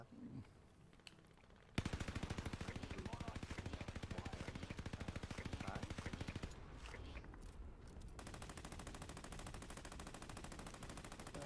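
Rapid automatic gunfire from the video game Call of Duty: Warzone rattles in long dense bursts, loud and close, with game sounds and a player's voice talking over it.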